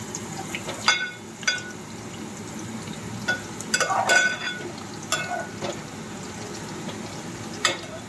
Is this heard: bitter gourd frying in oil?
yes